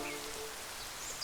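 Rain falling in an animated story, a dense steady hiss of drops on surfaces filling the short stretch evenly, with no voices.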